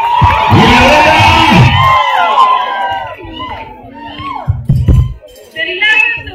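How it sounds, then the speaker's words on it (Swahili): A loud burst of crowd cheering and whooping at a girls' school cultural day, with high-pitched shouts and screams from students that fade after a couple of seconds, then rise again in scattered shouts and chatter. "Wapi makofi?"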